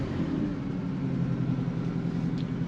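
A 1968 Pontiac Firebird Sprint with an OHC-6 straight six on Weber carburettors idles at about 1,000 RPM in cold weather, a steady, close low rumble with an even throb and no other sounds.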